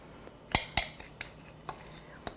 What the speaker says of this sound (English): I stir the cornstarch and sugar together.